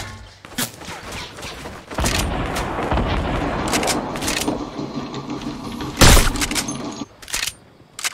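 A video game firefight erupts with a grenade blast and bursts of gunfire: sharp loud shots early, a sustained rattle of fire, then a heavy booming explosion near the end, with no speech.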